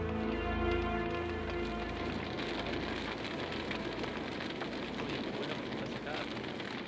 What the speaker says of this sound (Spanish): muy duro bajo la lluvia